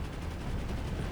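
Tank cannon fire in the War Thunder video game: a dense, rumbling burst of gunfire noise fills the whole moment, steady and loud, with no clear single crack standing apart.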